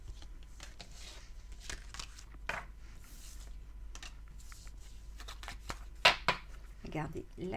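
Oracle cards are shuffled for a card reading, giving soft, quick riffling and flicking with occasional sharper snaps, close up and under steady talk.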